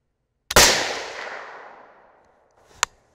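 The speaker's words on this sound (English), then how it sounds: "distinct hang fire that time." A .308 Winchester rifle fires after a hang fire: one loud, close shot with a long rolling echo that fades over about two seconds, then a second sharp crack follows near the end.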